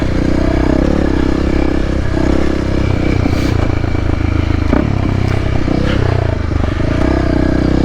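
Dual sport motorcycle ridden off-road, its engine droning loud and steady throughout with shifting revs, plus clattering and scraping from rough ground under the wheels.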